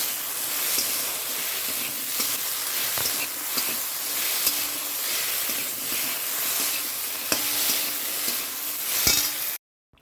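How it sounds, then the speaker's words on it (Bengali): Panch phoron spices and mustard seeds sizzling in hot oil, giving a dense, continuous hiss with small crackles and pops throughout before the sound cuts off abruptly at the end. "সর্ষে দিয়ে আমি পাঁচ ফোড়ন দিয়েছি"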